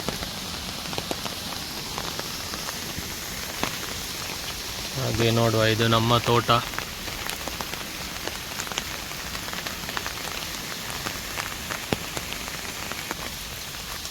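Monsoon rain falls steadily on a home garden near Udupi, a continuous broadband hiss of drops that runs the whole time, with a voice speaking briefly partway through.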